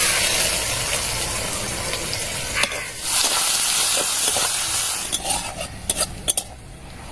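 Onions fry in hot oil with a steady, loud sizzle and hiss. Occasional clinks of a utensil against the pan cut through, and no one speaks.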